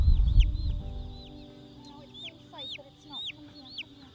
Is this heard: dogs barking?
no